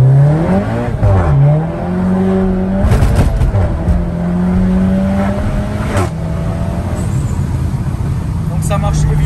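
A SEAT car accelerates hard along a straight, its engine note climbing through gears in loud revving sweeps with sharp exhaust pops and crackles, while someone talks over it.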